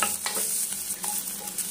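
Half-boiled potatoes frying lightly with turmeric and chili powder, giving a steady soft sizzle with scattered scraping stirs, close and moderately quiet, no talk.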